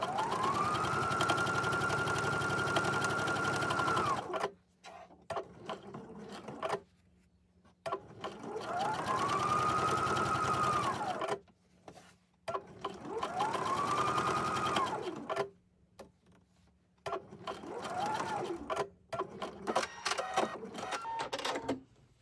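A sewing machine stitches quilting lines through fabric for a mug rug, running in three long steady bursts with short pauses between, close and loud.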